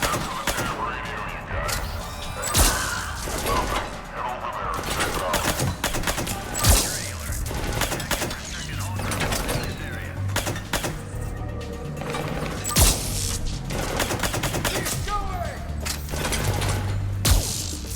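Rapid gunfire from the shooter game Mass Effect 3, dense bursts of automatic fire with sharp louder shots cutting through, continuous and close, with game effects layered beneath.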